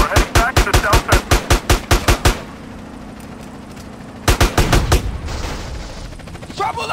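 Rapid automatic gunfire in GTA San Andreas hammers out in a quick, evenly spaced burst of loud shots, then pauses before a second shorter burst, with game noise between.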